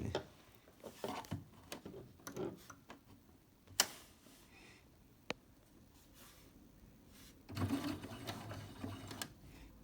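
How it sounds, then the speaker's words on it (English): A sewing machine lock-stitching the start of a fabric mask, with short bursts of rapid ticking stitches and isolated clicks between pauses, close and fairly quiet. "I always do a lock stitch right at the beginning"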